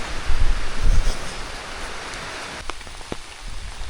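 Steady rain falls through a forest on a hike in Kep National Park, Cambodia, a dense close hiss with a few louder drops and thumps early on and scattered drips standing out near the end, with no voices.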